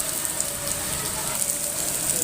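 A hailstorm in Dhaka makes a dense, unbroken roar of pattering and splashing, loud and close, with no distinct individual strikes standing out over the steady wash.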